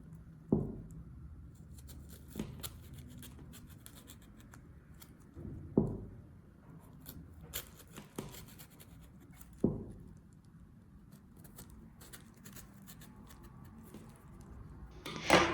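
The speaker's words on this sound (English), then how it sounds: "use a knife to cut along its direction to score the skin" A knife scoring the skin of a pomegranate along its membranes makes soft, close cutting and scratching sounds, with a few sharper taps spaced several seconds apart in a quiet setting.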